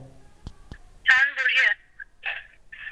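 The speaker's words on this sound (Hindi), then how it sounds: "मैं अभी उसको फोन करता हूँ।" A phone call placed from a T800 Ultra smartwatch rings in short repeated tone bursts, close and clear, after a couple of faint clicks.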